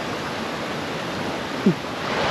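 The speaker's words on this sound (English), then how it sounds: "Okay, crossing the river." A river in Senaru, North Lombok, rushes steadily at a crossing point, giving a constant broad wash of flowing water with no voices over it.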